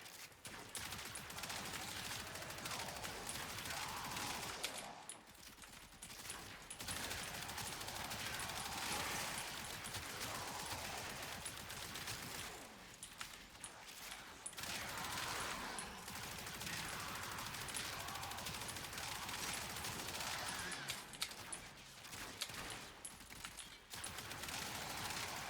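Rapid, sustained automatic gunfire from the Athodai primary weapon in the video game Warframe, dense bursts broken by short pauses, loud and continuous with no voices.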